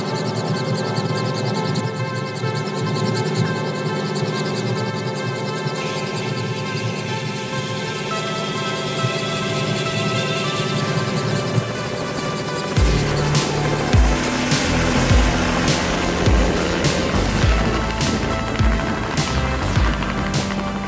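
Helicopter in flight while shooting aerial footage of a city skyline at night, with a loud, steady engine and rotor drone that holds for the whole stretch.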